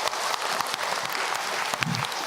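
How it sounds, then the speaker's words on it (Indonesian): Applause from listeners at an Islamic religious talk, brief, dense and even clapping heard at a moderate distance. "Tepuk tangan untuk kita semua."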